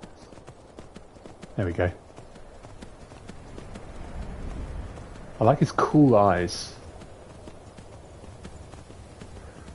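Horse hooves clip-clop steadily while riding through the Skyrim video game, a light rhythmic patter running under a man's speech.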